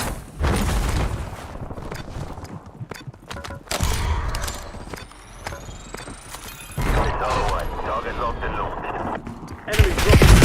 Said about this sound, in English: Incoming shots!